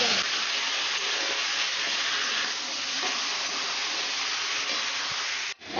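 Marinated chicken hits hot oil in a pan with bay leaf and cumin, giving a loud, steady hiss and sizzle that holds throughout, close by.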